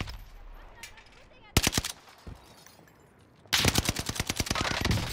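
Rapid gunfire in an online shooter game, two loud bursts of many close, sharp shots with a quieter stretch between them and muffled ambient game noise underneath.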